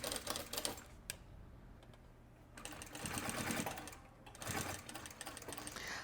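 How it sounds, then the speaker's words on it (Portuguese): A sewing machine stitching a wallet in short runs: two rapid bursts of needle clatter separated by a quiet pause, then stitching resumes briefly, fairly faint and close. "E faz a costurinha, ó."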